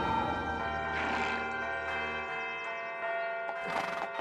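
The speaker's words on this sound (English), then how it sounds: "what do you make of all these bells?" Church bells in colonial Lexington ring out an alarm as British troops approach the green, the sustained harmonic tones layered with swelling clangs, loud and continuous with no talk over them.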